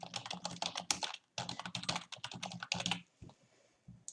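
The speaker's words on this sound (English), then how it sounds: "Control Shift and S on the keyboard." Computer keyboard keys are pressed in quick clattering bursts, close and quiet, with a brief pause midway and a few final isolated clicks, and no voices.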